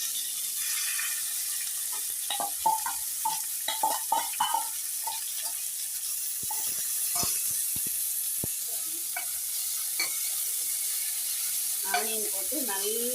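Onions frying in oil with mustard seeds for an eggplant, drumstick and potato gravy, with a soft continuous hiss and scattered pops and clicks of stirring, and a brief voice near the end.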